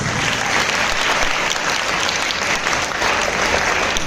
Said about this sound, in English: A big round of applause again for all the participants.